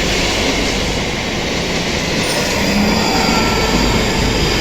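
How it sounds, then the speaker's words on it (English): A train roars by close and loud beside a railway track in Scotland, a continuous wash of rumbling wheels and rail noise that stays intense from start to finish. "I actually like the sound of the trains."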